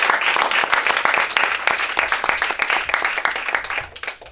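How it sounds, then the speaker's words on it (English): A church congregation applauds after a closing prayer, dense clapping filling the room steadily and close by, then thinning toward the end. "Let's give the Lord a round of applause."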